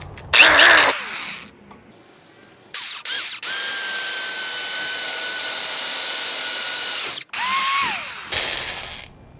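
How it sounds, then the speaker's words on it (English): A power drill bores a hole in rebar clamped in a vise: short bursts of motor whine, then a long, loud, steady high-pitched drilling run, a brief stop, and another spin-up. "Let's drill a hole."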